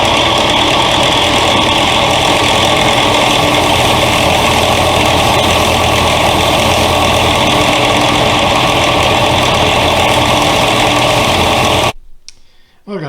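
A power tool cuts the metal pins off a knife handle being made from an old saw blade, giving a loud, steady whining buzz that runs without let-up before stopping suddenly.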